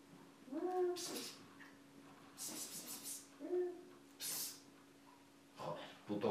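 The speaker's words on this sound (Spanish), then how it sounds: "Joder, puto gato." A cat meows a few times in a quiet room, the harmonic calls spaced through the clip between bursts of other household noise, fairly close and moderately loud.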